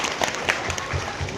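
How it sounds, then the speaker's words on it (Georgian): Children clapping in a short burst of applause, a few scattered claps close by with light crowd noise underneath. "ტაში ბავშვებო"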